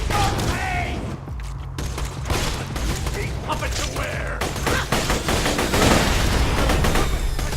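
Dense, continuous gunfire from Borderlands 2, including an incendiary pistol, crackles in rapid overlapping bursts over a low steady game drone, loud and close throughout.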